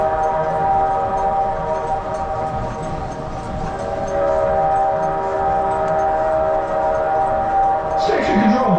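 The Earthquake dark ride in Gatlinburg, Tennessee, with a loud rumbling roar of a ride train approaching on the track and steady mechanical drone, ending in a sharp clatter near the close.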